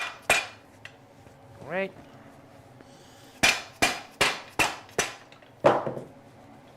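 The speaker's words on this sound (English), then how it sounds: "Pound this out real quick" A hand hammer pounds a shoe orthotic at a cobbler's workbench, giving a few sharp isolated knocks and then a quick run of five or six evenly spaced close blows. A brief voice speaks early on.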